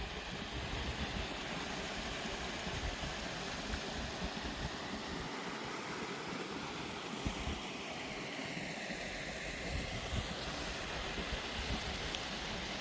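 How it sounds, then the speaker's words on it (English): A small waterfall pours steadily, giving a continuous rushing, hissing roar of flowing water that stays even and moderately loud, with no voices. "It's a nice little waterfall,"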